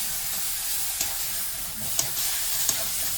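Finely chopped onion sautéing in a pan on low to medium flame, a steady bright hiss of frying with a few sharp spatula taps against the pan.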